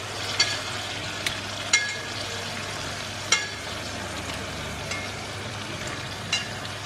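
Boneless chicken pieces fry in a masala paste for rendang-style sambal chicken. A soft, steady sizzle is broken by occasional scraping stirs and light clicks, fairly quiet and close, with no voices.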